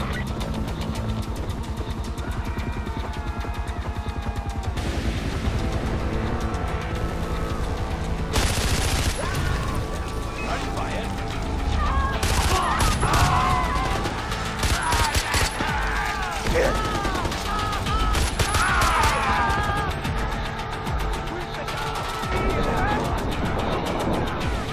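Sustained automatic gunfire and repeated bursts in the Far Cry 4 video game during a bell tower capture, loud and dense, with brief lulls and voices speaking over parts of the shooting.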